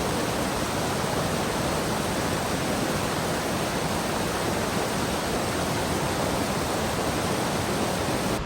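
A river in an enchanted forest on the Isle of Man rushes steadily nearby, a loud, unbroken broadband wash of flowing water with no voices or other sounds over it.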